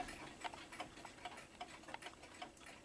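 A mechanical clock ticks faintly and unevenly, its beat sounding off and irregular as though it may soon stop, a quiet run of small clicks against a low room hiss.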